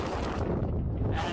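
Strong wind during the Lahaina fire, roaring steadily and buffeting the microphone with a low, constant rumble throughout.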